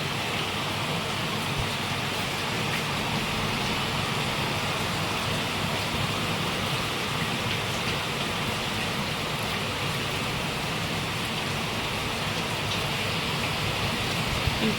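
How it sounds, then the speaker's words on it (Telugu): Heavy rain pours steadily and loudly for the whole stretch, a dense continuous hiss of drops hammering a surface with no pauses. "వర్షం అయితే చాలా ఎక్కువగా పడుతుంది"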